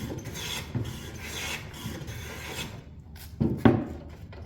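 A hand plane shaves timber to bring the board flat and square, a close rasping scrape in a few strokes, ending with two sharper, louder passes and no talk.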